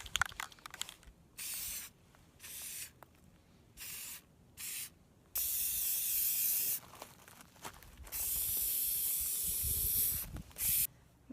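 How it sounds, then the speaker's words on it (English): Several bursts of aerosol spray paint, oil rubbed bronze applied over black primer on a faux stained glass light fixture, hissing in short blasts then longer sustained passes, close and fairly loud with brief pauses between. "now I'm going to go over it with my oil rubbed bronze paint"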